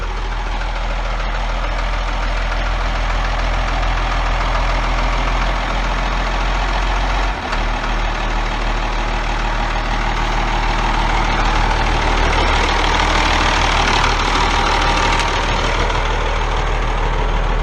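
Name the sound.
1989 Ford TW15 tractor engine idling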